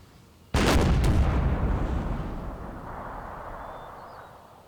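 Artillery cannon fire in the video game Napoleon: Total War, a single sudden loud blast that rolls off into a long rumbling decay, with no talking.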